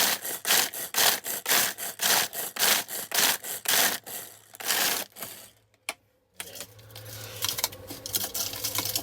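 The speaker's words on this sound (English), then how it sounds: "hand blender crusher." Hand blender crushing ice for an iced caramel latte, loud repeated grinding bursts in a rapid pulsing rhythm, then a short pause and a lower steadier whirring as it finishes, close and without talk.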